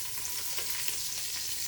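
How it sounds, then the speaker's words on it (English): Butter sizzling and frying in a pan while ghee is made, a steady dense crackle with fine popping spitting, close and continuous without pauses. "the sizzle already"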